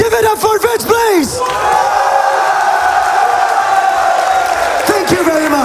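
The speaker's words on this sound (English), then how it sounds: "Look at this French crowd just cheering up his people" A French crowd at a Smash Ultimate tournament cheers and shouts, starting with loud yelling voices, then a sustained roar of cheering, with another burst of shouts near the end.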